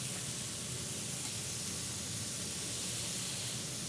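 Thin-sliced bulgogi beef searing in a hot pan, a loud steady close sizzle that fills the whole stretch evenly, with no talk over it.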